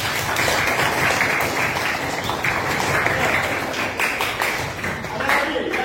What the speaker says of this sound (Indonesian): tepuk tangan untuk kelompok 9.